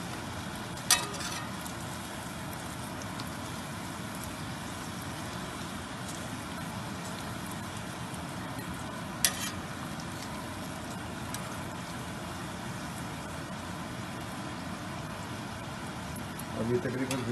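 Puris fry in hot ghee with a steady, broad sizzle that runs throughout, close and fairly even, with a couple of sharp clicks along the way.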